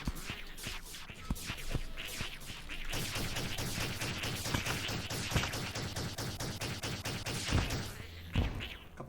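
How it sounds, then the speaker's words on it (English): Rapid bursts of explosions and gunfire-like blasts in Terraria, a dense run of sharp repeated bangs in quick succession, fairly faint and continuous, with a couple of heavier thumps near the end. "Couple bombs."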